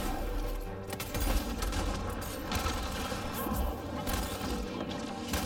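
Sustained rapid gunfire from an enemy weapon in Mass Effect: Andromeda, a dense continuous rattle of shots with thuds, steady and fairly loud throughout.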